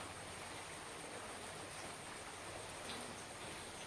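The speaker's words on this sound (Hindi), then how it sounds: "ये जो झुटर झुटर पानी गिर रहा है वो कब तक खत्म होगा" Light, steady rain falling outdoors, a soft continuous broadband hiss of drops with no talk, even and unbroken throughout.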